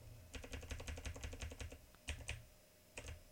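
Rapid clicks of a computer keyboard as a file name is typed, a quick run of close, light keystrokes, a brief pause, then a few scattered presses, quiet and with no talk.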